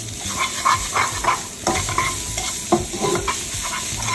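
Bacon rendering in a heated pan gives a loud, close crackling sizzle, with a few sharper pops and scrapes as the strips shift about.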